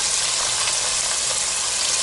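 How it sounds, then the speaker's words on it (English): Chicken legs frying in hot oil give a steady, dense sizzle at a moderate level, unbroken and with no voices. "The frying sound won't be as loud as it was when you first started cooking."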